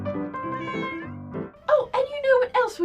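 A house cat meows several times up close, first a drawn-out tonal meow, then a quick string of shorter meows, while someone speaks warmly in between.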